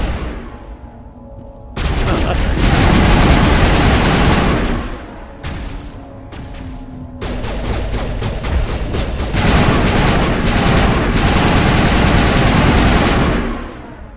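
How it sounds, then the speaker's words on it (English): Video game gunfire in Mass Effect: loud, sustained bursts of automatic weapon fire in long stretches, broken by brief pauses, with a low rumbling hum underneath. "What are they shooting at?"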